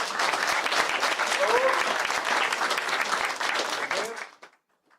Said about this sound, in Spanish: Denle un fuerte aplauso, por favor.